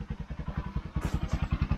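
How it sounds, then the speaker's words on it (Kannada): A motorcycle arriving nearby, its engine giving a fast, even low putter of thumping pulses that grows slightly stronger partway through, with a faint clatter on top. "ಅಲೆ ಬೈಕ್ ಬತ್ತಿ"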